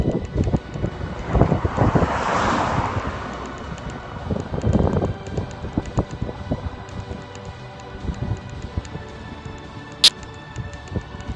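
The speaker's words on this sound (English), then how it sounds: "Wind is catching it quite a bit this morning" Wind buffets a drone flying over a disused RAF airfield in the morning, a steady rough rumble that swells and eases, with a brief high click near the end.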